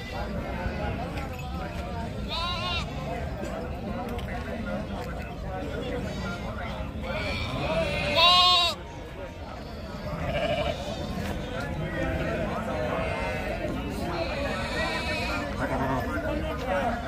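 Sheep bleat repeatedly at the Gudur sheep market, several clear cries rising above a steady crowd din, with people chatting and bargaining throughout.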